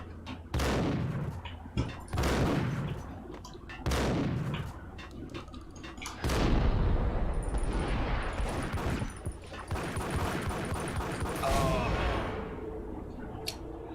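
Shotgun blasts in the action game Max Payne, several loud booming shots spaced irregularly with echoing tails, mixed with game clatter and ambient noise.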